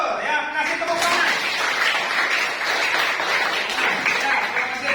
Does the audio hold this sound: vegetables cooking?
no